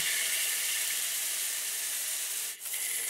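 Steak sears in a hot pan with a continuous, close, even hiss that barely changes, dipping briefly once before resuming.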